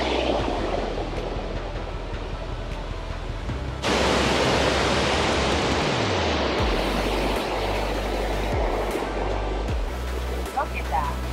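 Loud, steady roar of Natural Bridge Falls near Big Timber, Montana, a broadband rush of falling water that swells sharply a few seconds in and stays strong and close throughout, with no talk over it.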